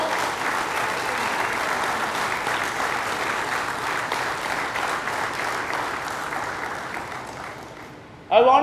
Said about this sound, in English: One round of applause to all the soldiers who are working across Pan India